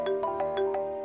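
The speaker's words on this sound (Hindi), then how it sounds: "अरे भाई ऑफिस से फोन आ रहा है।" A phone ringtone plays alone, a bright electronic melody repeating in quick regular pulses, fairly close and steady.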